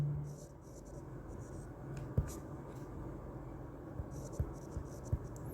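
Chalk or marker writing on a board in a classroom banking lesson, soft continuous scratching strokes with occasional light taps, faint against room hum.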